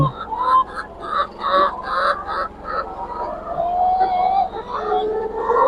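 Layer hens crowd a poultry farm with a close, continuous chorus of clucks and squawks, dense and overlapping throughout.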